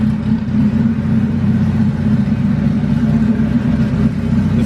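Honda Civic with a D16Z6 engine, Brian Crower cam and flex-fuel E85 tuning, idling close and loud with a steady, slightly lumpy low throb.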